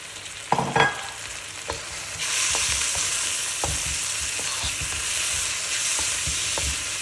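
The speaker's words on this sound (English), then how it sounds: "make sure that the masalas have been sauteed properly" Masalas of red chilli powder, turmeric, coriander powder, garam masala and salt sautéing for paneer bhurji in a pan: a steady close sizzle, with occasional stirring scrapes and taps.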